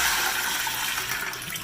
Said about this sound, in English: the first thing I like to do is drain the water from the potatoes